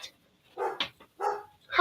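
A dog barks from another room of a house, four short sharp barks spaced about half a second apart, clear but slightly distant and alone without talk.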